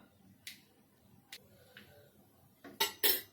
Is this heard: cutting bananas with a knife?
yes